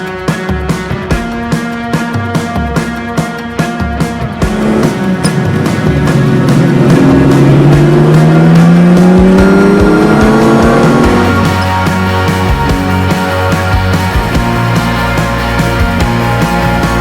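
A 1969 Lamborghini Miura P400S engine roars loudly and close, idling in a steady pulse before revving up in a rising, sweeping howl that holds high, then settles back to a rumbling idle.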